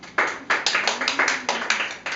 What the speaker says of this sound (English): Turn to page 122 and applaud now.